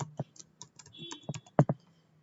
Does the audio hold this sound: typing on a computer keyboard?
yes